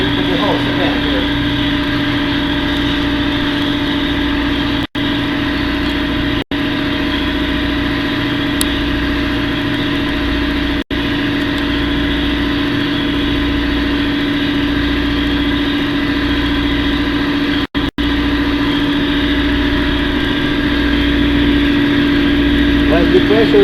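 An air compressor runs continuously with a steady, loud mechanical drone and a constant hum that barely changes over the whole stretch, close by. Speech seems to occur faintly under the machine noise.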